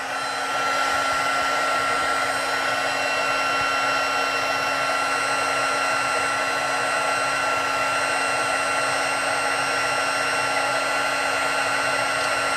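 A heat gun blows steadily on puffy embossing paint, a constant loud whooshing hiss with a steady tonal hum that holds unchanged throughout and has no talk over it.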